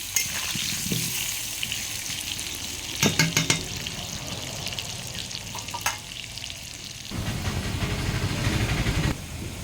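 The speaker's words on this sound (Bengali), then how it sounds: "এবার এতে এক এক করে আলুগুলো ভেজে নেব" Potatoes sizzle and crackle steadily as they fry in hot oil, with occasional scraping clinks of a utensil stirring through the pan.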